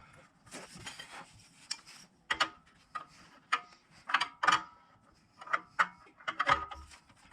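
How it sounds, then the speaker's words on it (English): A wideband O2 sensor is threaded into its bung beneath a car, giving a run of small metallic clicks and scrapes at an uneven rhythm, close and quiet, with no talking. "we are threading the new O2 sensor in"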